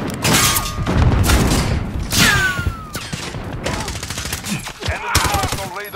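Gunfire in Call of Duty: Modern Warfare (2019) multiplayer: dense bursts of automatic fire and booming impacts close by, with mechanical clatter, whizzing effects and brief game voice lines mixed in.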